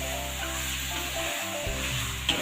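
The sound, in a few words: stirring beef kikil into sizzling spices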